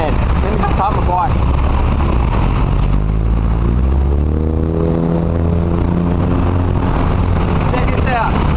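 A motorbike idles and rumbles close by as it is parked, a steady engine drone that winds down toward the middle, at a durian festival in Chanthaburi, Thailand.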